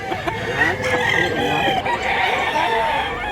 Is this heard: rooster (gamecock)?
yes